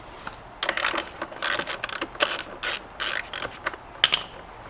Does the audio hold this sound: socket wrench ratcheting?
yes